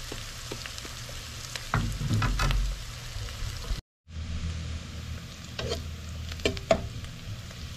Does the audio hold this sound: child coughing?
no